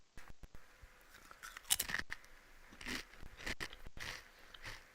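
Someone eating a crunchy snack chip, with crisp bites and crackling crunches close to the microphone, several bursts over a few seconds with quiet game sound behind.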